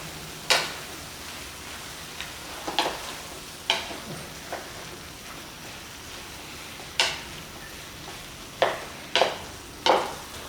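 A sauce of soy sauce, Chinese rice wine and sesame oil being stirred, a series of separate clinks and scrapes against the bowl spaced irregularly over a quiet, faintly hissing background.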